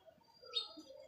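A golden pigeon on a lower rooftop gives a brief, faint chirping call, a single bright burst rising above a soft background hum.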